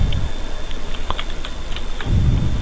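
Keys on a computer keyboard are tapped in a short, uneven burst of light clicks while JavaScript code is written, mid-level and close, with duller background noise before and after.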